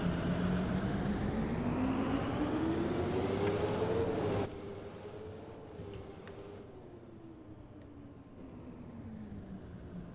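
A 2002 Blue Bird All American A3FE bus drives in the Rigs of Rods game, its engine a steady drone that climbs in pitch, then eases lower and quieter as it continues.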